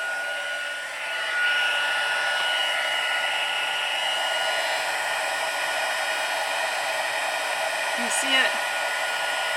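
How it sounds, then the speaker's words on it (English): A heat tool blows hot air to melt embossing powder on paper, a steady loud whooshing hum that swells up after the first second and runs unbroken, with a brief spoken remark near the end. "so I've got my heat tool nice and hot"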